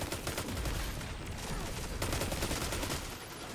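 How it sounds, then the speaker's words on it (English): Dense, continuous auto rifle fire during an Iron Banner match in Destiny 2, a loud sustained volley of rapid shots with short bursts and layered impacts and no break throughout. "We're just shooting where we know he was gonna be."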